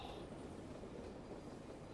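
Train rolling steadily through a VR battlefield first-person shooter game, a continuous low rumble and rattle of rail cars holding at an even level for the whole stretch with no voices over it.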